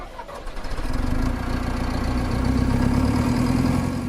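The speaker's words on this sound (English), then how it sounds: "we start the engine, of course." An engine cranks and catches in a construction site scene, quickly settling into a loud, steady mid-pitched idle that runs alone throughout.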